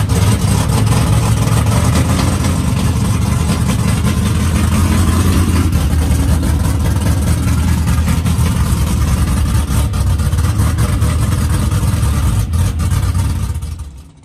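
Chevy S10 drag truck engine revving loudly and steadily at a drag strip, a thick low roar filling the whole stretch before cutting off at the end.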